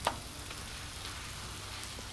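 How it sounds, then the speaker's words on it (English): Quiet, steady sizzling hiss of a smashed burger patty cooking on a hot Blackstone griddle, with a faint crackle at the start and no talking. "Y'all hear it sizzle?"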